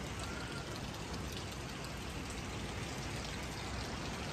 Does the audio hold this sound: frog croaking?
no